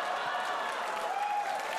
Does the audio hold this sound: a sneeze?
no